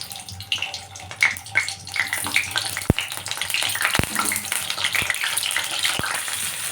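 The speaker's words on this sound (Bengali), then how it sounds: "এরপর আমি আলুগুলো আস্তে আস্তে দিয়ে দেবো" Potatoes eased into hot mustard oil in a wok crackle and sizzle up close, with several sharp clinks of a utensil against the pan and watery bubbling throughout.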